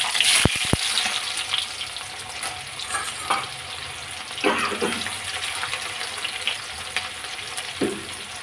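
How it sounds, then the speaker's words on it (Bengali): Onion drops into hot oil with five-spice in a pan, starting a loud, dense sizzle that keeps crackling and hissing, with a few stirring scrapes along the way. "পেঁয়াজটা দেবো এবার খোলায়"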